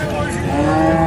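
Cattle moo at a livestock fair in Buíque, Pernambuco, where cows and young calves are up for sale: one drawn-out harmonic bellow fills the short moment, loud and close over crowd murmur.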